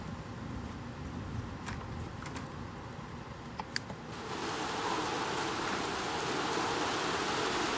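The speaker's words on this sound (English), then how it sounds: "So as you can see, it's raining." Steady rain falls in The Sims 3 life-simulation game, a broadband hiss with a few faint clicks, then swelling louder and denser after a few seconds, heard alone without speech.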